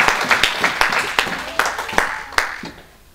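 A church congregation claps in a steady rhythm during a sermon in praise of the Lord, about two claps a second. The crowd is fairly close and loud, with voices mixed in, and the clapping fades out at the end.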